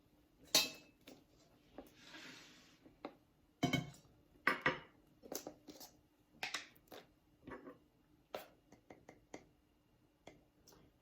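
A bowl is taken out and tablespoons of cornstarch are spooned into it, making scattered close clinks, taps and knocks of ceramic and metal at an irregular pace, with quiet pauses between and no speech.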